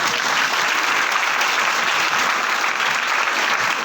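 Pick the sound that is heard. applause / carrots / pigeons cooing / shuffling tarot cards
applause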